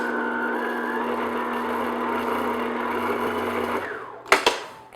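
An electric mixer at medium-low speed beats an egg yolk into tart batter with a steady, loud whir. The motor cuts off near the end, followed by a couple of sharp clacks against the bowl.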